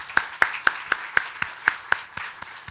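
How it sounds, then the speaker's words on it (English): Audience applause in a conference room during a talk on women's leadership, heard as sparse, distinct hand claps spaced regularly at close range, fairly soft, with no talking over them. "So a round of applause for all of us."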